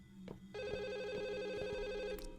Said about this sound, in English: the phone is ringing angrily